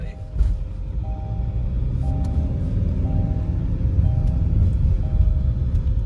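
A Tata car drives along a rough local road, heard from inside as a steady, fairly loud engine and road rumble that holds constant throughout.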